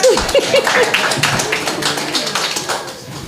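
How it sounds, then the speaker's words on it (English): An audience at a Spiritual Baptist gathering applauding a lecturer, scattered close claps and taps mixing into a brief round of applause with some voices. "Give him a round of applause."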